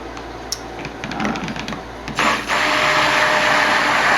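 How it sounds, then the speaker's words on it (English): A small but powerful stick blender whirs in liquid cold process soap batter, starting with bumps and handling noise before the motor surges to a steady, loud, high whine that continues to the end. "this is a more powerful little stick blender than I'm used to using"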